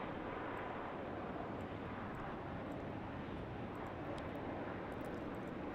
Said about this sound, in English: down there on runway 34, we have the Virgin Australia flight Velocity 690 from Perth